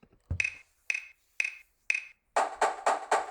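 Four evenly spaced sharp snare-like hits with a doubled attack, then four louder, fuller strokes in quicker succession; accented drum flams played back by Finale notation software.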